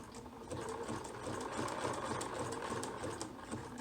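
A home sewing machine runs a zigzag stitch across the overlapped ends of fabric for baby bloomers, a quiet, continuous rapid whirring and ticking at close range with no pauses.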